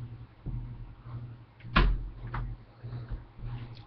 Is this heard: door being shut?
yes